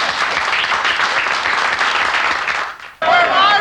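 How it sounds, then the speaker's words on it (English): Audience applause at a St. Patrick's Day Parade, a dense wash of outdoor clapping and crowd noise for nearly three seconds, dropping out before voices begin. "That's the line for applause"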